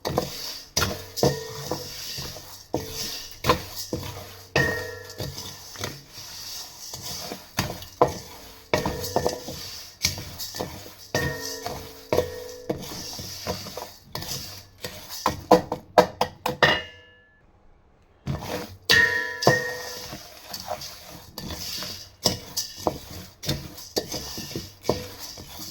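Homemade masala spices dry-roasting in a pan, with a spoon scraping and knocking against the metal in a busy, continuous rhythm and a brief pause before the stirring resumes.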